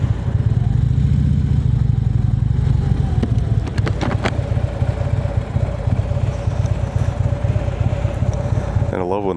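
Motorcycle ride on a road near Garretson and Sioux Falls in late autumn, with a steady engine drone and heavy wind rush against the microphone throughout, a voice speaking over it.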